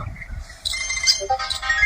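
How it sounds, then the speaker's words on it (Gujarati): An incoming call sets off a mobile phone ringtone, a moderately quiet run of melodic electronic tones repeating over faint background noise, with no talking. "કોનો ફોન આવ્યો"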